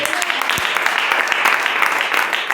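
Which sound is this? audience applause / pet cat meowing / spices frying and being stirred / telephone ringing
audience applause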